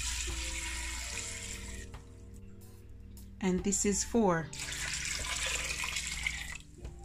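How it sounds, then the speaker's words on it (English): Water runs from a tap in a steady stream, stopping and starting as cups are filled and poured into a pot for sea moss gel, with someone talking in between. "And I'm gonna put 8 cups of water."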